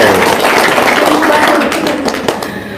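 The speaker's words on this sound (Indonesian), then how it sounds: "Tepuk tangan dong." An audience gives a short round of clapping at an indoor gathering, dense at first and then thinning out, mixed with loud voices and chatter.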